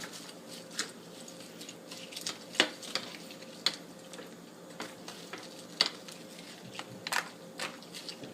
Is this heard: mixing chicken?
yes